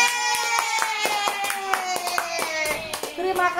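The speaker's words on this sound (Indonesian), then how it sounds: "Tepuk tangan buat Bu guru." Children and adults clap along in a home lesson about the world map, producing a run of quick, sharp handclaps in steady rhythm, mixed with cheering and young voices.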